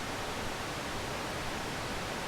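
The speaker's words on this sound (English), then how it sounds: "and then oscillator 1 has pink noise on it." Steady, even hiss of pink noise from oscillator 1 of a Roland JX-03 Boutique synthesizer, continuous and unchanging throughout.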